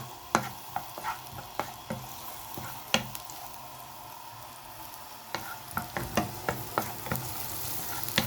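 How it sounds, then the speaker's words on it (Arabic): Onions frying in hot oil while being stirred with a utensil, a steady sizzle broken by repeated sharp scraping and tapping strokes against the pan, close and fairly loud with no talking, while preparing a dish of fava beans. "بعد ما نزلنا بالزيت هننزل اول حاجه معانا البصل"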